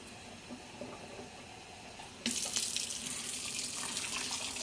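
Water poured into a large pot of turkey noodle soup in a 12-quart GoWise cooker, a sudden steady hissing splash starting midway over quiet room tone and continuing without voices.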